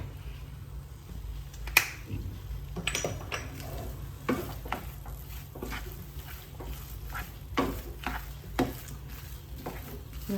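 Garam masala being stirred into a Punjabi samosa filling in a pan, with scattered sharp scrapes and taps of a spoon against the pan over a low continuous sizzle, no talking.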